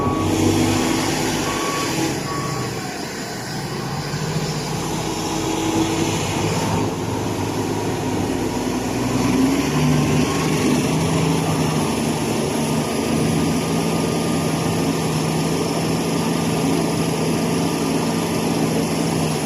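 A loader runs its hydraulics as the bucket closes and the boom rises slowly, a continuous loud engine drone with a steady whine and a reversing beep, no speech.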